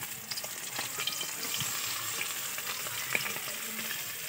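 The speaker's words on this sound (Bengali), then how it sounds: "এই মাছটা ভাজবার সময় তেলটা ভালো করে গরম করে নিলে তাহলে মাছগুলো ভাঙবে না, ঠিক আস্ত থাকবে।" Bata fish frying in hot oil gives a steady, close crackling sizzle with scattered sharp pops across the whole stretch, and no one speaks over it.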